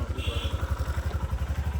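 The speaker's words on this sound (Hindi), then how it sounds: "हो गई बाइक एक बार में स्टार्ट।" Motorcycle engine idling right after starting first try, a close, rapid, even thumping pulse throughout.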